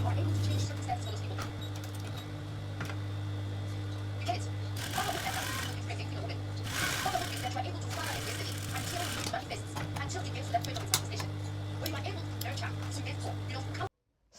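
A sewing machine stitches a birthday dress, its rapid mechanical whirr steady throughout with a few short louder bursts, while a person talks over it.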